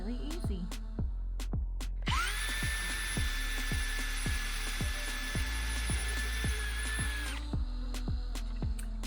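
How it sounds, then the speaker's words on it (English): A power drill boring holes into driftwood, its steady whine rising then holding for several seconds, over a constant low hum and a regular ticking pulse, with no talking. "All my holes drilled out, and like that was really quite easy to do."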